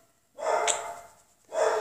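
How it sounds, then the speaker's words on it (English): Two loud, close dog barks, one long and one cut short, are separated by a brief pause, with no other sound around them. "Now all the dogs are going to bark."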